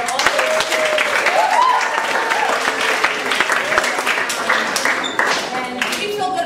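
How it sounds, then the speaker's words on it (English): Audience applause fills a school gym at a year-end middle school athletics assembly, a loud sustained wash of clapping that slowly thins out toward the end. "So let's give a round of applause for all of those."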